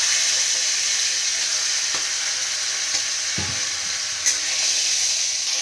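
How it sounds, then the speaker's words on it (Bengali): A hilsa fish head fries in hot oil with nigella seeds and a green chili, a loud, dense, continuous sizzle close by with a couple of faint stirring knocks underneath. "এর মধ্যে ইলিশ মাছের মাথাটা দিয়ে দিচ্ছি দেখো।"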